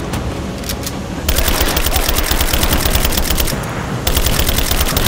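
Rapid automatic gunfire in the video game Rise of the Tomb Raider, with loud, dense bursts of shots that rattle on almost continuously, briefly ease and then intensify again.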